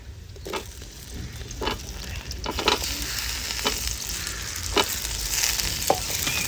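Onions sautéing in a pan for Tamil-style fish curry, a dense continuous sizzle broken by repeated scraping stirs at irregular intervals, close and fairly loud.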